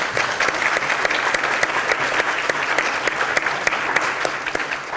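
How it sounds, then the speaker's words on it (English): An audience at a speaking event for Bruce King bursts into dense, sustained applause, many hands clapping loudly together with a faint murmur of the crowd. "you deserve a round of applause for that"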